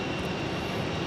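SkyWest airplane at Phoenix airport, a steady broadband roar of jet engines that holds loud and even through the whole short stretch, with no voices over it.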